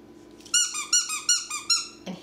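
A squeaky dog toy gives four loud, close, high-pitched squeaks in a steady rhythm, each a drawn-out rubbery squeal, followed by a soft handling rustle.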